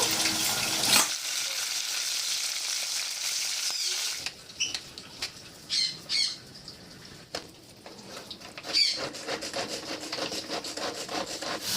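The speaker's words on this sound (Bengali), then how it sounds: "এদিকে মাছটা ভাজা করছি" Fish frying in hot oil in a home kitchen during Bengali cooking, giving a steady sizzle with crackling bursts that breaks off after about a second and then returns in uneven spurts alongside faint clatter.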